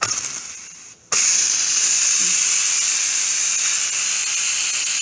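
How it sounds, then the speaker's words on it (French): Steam hisses hard and loud from the release valve of a Lagostina Lago Easy Up pressure cooker, a continuous high jet that cuts off briefly and then bursts out again at full force. "on enlève toute la pression et la vapeur s'échappe de l'autocuiseur"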